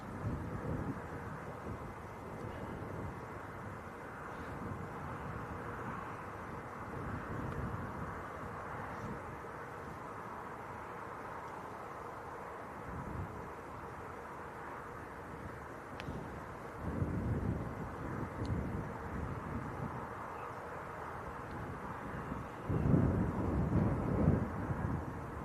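A Ryanair airliner bound for Tenerife rumbles at Leeds Bradford airport, a steady, distant low roar with wind buffeting the microphone, swelling slightly toward the end.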